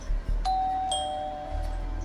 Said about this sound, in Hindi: तो सीधा हम जाते हैं, डोरबेल बजाते हैं।